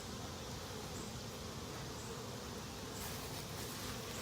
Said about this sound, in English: Lots of bees in this hive.